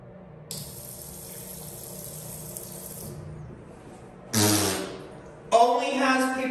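Water runs from a Bradley sink in a gender-neutral public restroom at a library, a steady hiss for a few seconds, then a louder burst and a final splashing surge near the end, with no talk.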